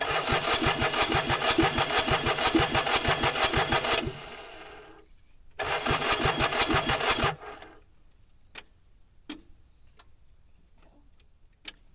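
A small mini skid loader engine cranks and runs roughly for a few seconds, cuts out, restarts briefly, then dies, leaving scattered clicks and quiet.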